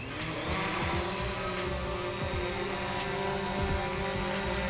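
A DJI Mavic Pro drone hovering in place, giving a steady, high whining buzz with a few faint low thumps. It stays even and continuous throughout.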